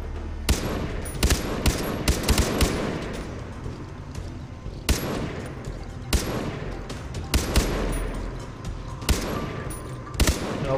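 Rapid bursts of automatic gunfire from the video game Far Cry 3, sharp repeated shots in clusters with pauses between, loud and close over a continuous game background.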